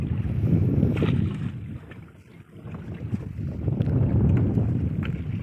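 Fishing boat engine running at sea about four kilometres offshore, a steady low rumbling drone with wind buffeting the microphone and water noise throughout, briefly dipping in the middle before rising again.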